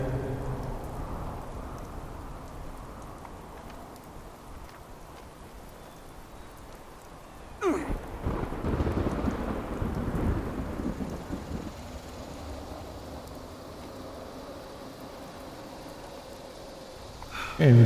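A video-game thunderstorm in Vault 63 brings a long, heavy rain hiss that builds as thunder cracks and booms loudly partway through, then rolls on under the steady downpour.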